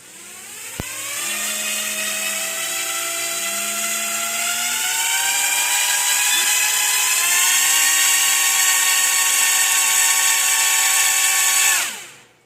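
Tiny Eachine X73 drone motors spin up from a click into a steady high-pitched whine that climbs gradually, holds loud and close for about ten seconds, then cuts off.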